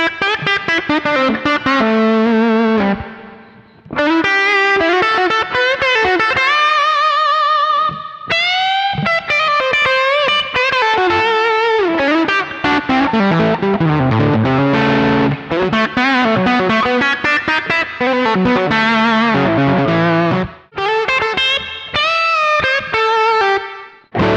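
An electric guitar through a Sonicake Sonicbar Twiggy Blues pedal, reverb air control on full, plays continuous melodic phrases and chords drenched in reverb, the notes ringing and washing into each other throughout.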